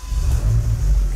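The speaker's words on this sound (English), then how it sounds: "I'll briefly turn on the car so we can see how that looks." A car engine is started, giving a loud, close low rumble that quickly settles into a steady running hum lasting about a second.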